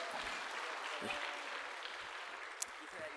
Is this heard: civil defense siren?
no